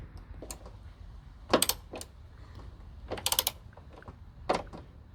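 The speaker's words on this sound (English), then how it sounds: "Just put the bolt back in." A bolt is tightened back into the coolant expansion tank mounting on a Ford Ka, giving a few short ratcheting clicks in separate bursts, close and fairly quiet, with no talking.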